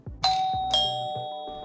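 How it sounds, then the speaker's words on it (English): Two-tone ding-dong of a doorbell in the NBA 2K12 video game, two clear chimes close together, ringing out cleanly, with no talking. "we're gonna make sure they ring the doorbell so we hear it"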